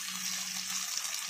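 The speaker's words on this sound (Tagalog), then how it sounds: "lagyan natin ng kunting tubig" A little water is poured into a pot of chicken afritada, giving a steady close hiss of liquid that runs for about a second without talk.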